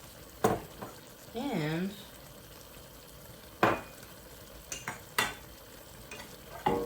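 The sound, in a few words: stirring green onions and garlic into sausage stew in pan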